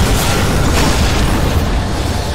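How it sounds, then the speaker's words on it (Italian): Explosions in the video game Darksiders, a dense continuous roar of blasts and rumbling booms filling the whole stretch, loud and close with no talk over them. "queste sono le cose da evitare, le esplosioni"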